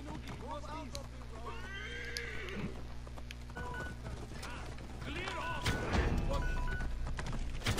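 A horse whinnies in high, wavering calls a few times in Assassin's Creed Origins, over clip-clopping hooves and a steady game background hum, with someone talking underneath.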